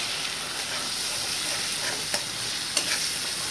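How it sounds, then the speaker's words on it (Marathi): Onion-coconut masala paste for crab curry sizzles in a pan while being stirred, a steady close frying hiss with a couple of soft scraping clicks and no voices. "ते चांगलं परतून घ्यायचं आहे।"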